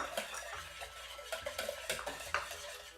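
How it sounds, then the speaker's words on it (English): Egg yolks whisked in a bowl for a cake, a quiet rapid run of soft clicking strokes against the bowl, close by with no talking. "I'm gonna start whisking that."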